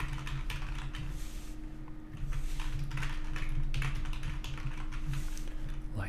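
Typing on a computer keyboard while entering text in a web design program, with steady soft key clicks over a constant background hum and no speech.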